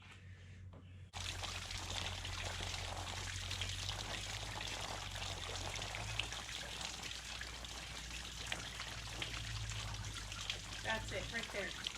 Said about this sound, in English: Oh, we have a water feature.